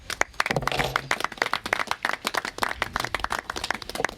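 A small gathering at a crosswalk revitalization event at a general store claps in an irregular, uneven patter of distinct nearby handclaps that thins out toward the end.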